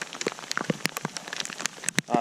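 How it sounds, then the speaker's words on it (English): Hail falling during a mountain hike in the Maroon Bells-Snowmass Wilderness on the Four Pass Loop, dense irregular pelting taps on nearby surfaces, close and steady, with a voice speaking over it. "It's a lot of hail."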